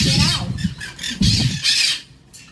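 A Hahn's macaw, a small green parrot, lets out a run of loud, harsh squawks in close, repeated bursts, with a person talking faintly underneath.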